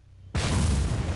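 Explosion set off inside a player-built base in a video game: a sudden loud boom after a brief quiet, followed by a sustained roaring, crackling rumble that fills the rest of the moment.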